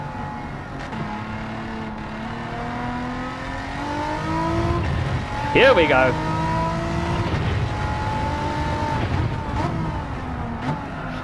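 A racing car in Gran Turismo 7 revs and accelerates hard on lap one of a five-lap race, its engine note climbing in steady harmonic sweeps, loud and close, while a person talks over it.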